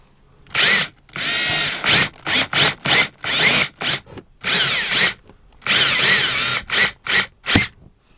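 Power drill boring holes in a piece of metal during drift prep on a V8 Volvo, loud close bursts of whirring that start and stop repeatedly, some long and some short.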